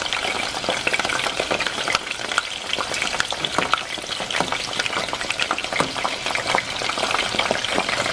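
Banana peppers and green chilies roast in a hot pan, giving a loud, crackling sizzle with dense popping bursts that continues steadily from start to finish, and no one speaks.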